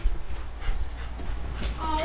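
A dog pants and whimpers close by inside a trailer used for laundry, with soft breathy panting and faint whines over a steady background hum.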